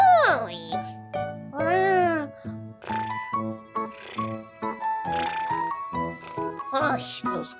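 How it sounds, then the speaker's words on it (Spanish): Cat meowing with several rising and falling cries mixed with a voice in a Spanish-language children's play, close and fairly loud, the meows tangled with speech throughout. "Los gatos no son lo máximo, son lo peor."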